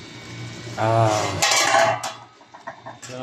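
A lid comes off a cooking pot with a loud metallic clatter and ringing clinks near the middle, followed by lighter scattered knocks over faint background music.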